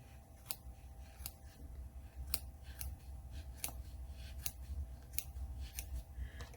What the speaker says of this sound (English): You'll be surprised how easy it is to cut inside